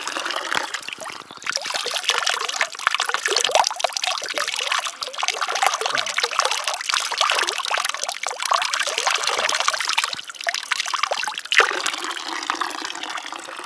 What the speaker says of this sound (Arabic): دي مية طالعة من الجبل